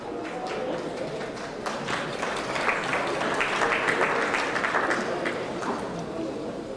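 Audience applause at a judicial reform global forum, a steady, dense wash of many hands clapping, loud and sustained throughout.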